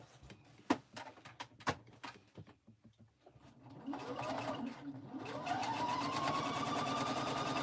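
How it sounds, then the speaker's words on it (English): A sewing machine stitches pieces of a pink baby quilt, a few sharp clicks and knocks giving way to a steady, close running whir that rises and holds to the end, with no talk. "I take it to my machine, and now I'm going to stitch"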